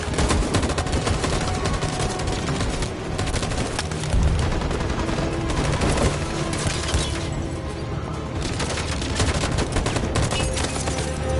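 A sustained gunfire volley in a video game, dense rapid shots crackling loudly and continuously for the whole stretch with no pauses.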